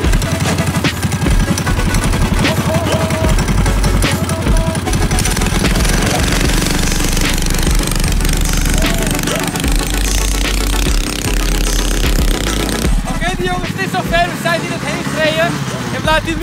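A scooter fitted with a tuned 200cc kart engine runs loud and close, a harsh, buzzing roar that climbs and surges through revs, with people talking over it at times.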